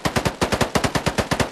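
Rapid automatic AK rifle fire in the Minecraft-style shooter Polygon, about a dozen sharp, evenly spaced shots in a steady burst, loud and close with no talking.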